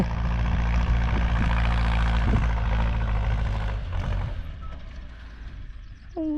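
A New Holland 6640 tractor engine drones steadily at a heavy low pitch while plowing, easing slightly toward the end as a few metallic clanks and squeaks appear.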